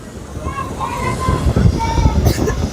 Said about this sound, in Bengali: প্রচুর পরিমাণে বাতাস প্রচুর